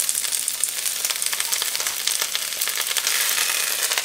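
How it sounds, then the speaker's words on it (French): Onions and spinach sauté in a pan with a constant, bright sizzle and crackle, steady and close with no talking. "On fait revenir les oignons avant de rajouter les épinards."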